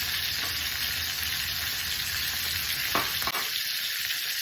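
Chopped onion hitting a hot pan, a dense, steady hiss of frying fat with a faint high whine above it and a brief scrape near the end, close and continuous with no talking.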